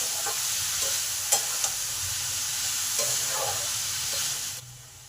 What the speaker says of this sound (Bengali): নুন আর হলুদটাকে ভালো করে বিট গাজরের সঙ্গে মিশিয়ে দিলাম